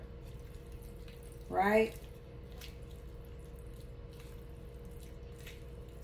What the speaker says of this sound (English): So I'm draining the water off